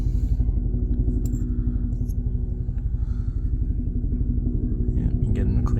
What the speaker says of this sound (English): if you stick these in the drill,